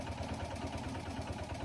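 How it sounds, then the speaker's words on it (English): A video game engine or generator hums steadily, a low droning rumble with a faint regular pulse that stays constant and fairly quiet throughout, with no one speaking. "Just me, or is that engine or that generator way louder?"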